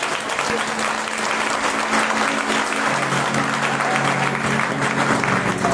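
Audience clapping steadily and loudly at a Srimad Bhagavatam recitation in Noida, a dense wash of applause that fills the whole stretch, with a faint held tone and murmuring underneath.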